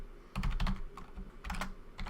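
Fingers type on a computer keyboard while writing CSS code, giving two close bursts of quick key clatter separated by a short pause and a few scattered taps, with no one speaking.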